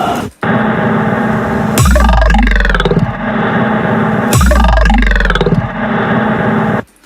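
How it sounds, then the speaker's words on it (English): A reverberant electronic ambient piece leaves a long reverb tail, while steady broadband rain noise fades in beneath it. Two loud, dense swells rise over the constant wash of rain. "and then I faded in the rain and stuff so that it kind of didn't get in the way of the reverb"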